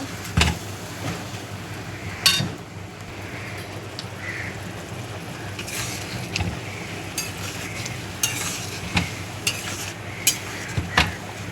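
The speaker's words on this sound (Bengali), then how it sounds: "ভালো করে নেড়ে নেব।" A spoon stirs a spice mixture with sour yogurt in a pan for a soybean and potato dish, a soft sizzle under irregular clinks and scrapes against the metal.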